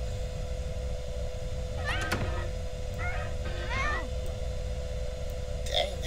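A cat meows a few times at close range, short rising-and-falling cries over a steady background hum with a faint high tone, and a brief sharper cry near the end.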